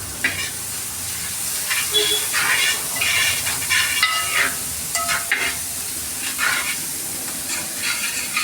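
Onions sautéing in a pan on low heat, a steady close sizzle and hiss with occasional stirring scrapes, running continuously without talk.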